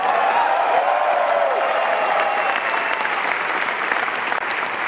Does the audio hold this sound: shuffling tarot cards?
no